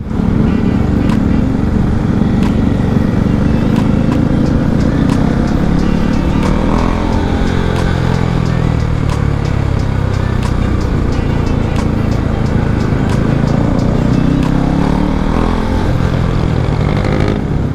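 A Honda CB650R motorcycle accelerates on the road, its engine droning loudly and continuously with rising and falling revs under heavy wind rush, heard from the rider's position.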